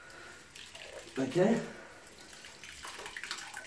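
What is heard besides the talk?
sponge rinsed and squeezed out in a bucket of water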